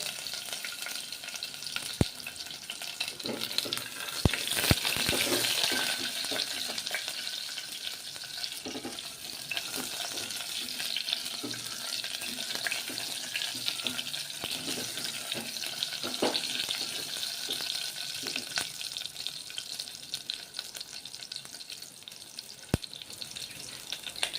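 Whole onions and whole tomatoes frying in a pan of oil for a dhaba-style mixed vegetable curry, a steady close sizzle with occasional stirring clinks and scrapes throughout, no talking.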